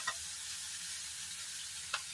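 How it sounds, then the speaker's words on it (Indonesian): Bitter mustard greens stir-frying in a pan with salt, a steady soft sizzle with two brief scraping stirs near the start and end, faint and without talk. "Masukkan bagian keras. Nah, kita tumis ini"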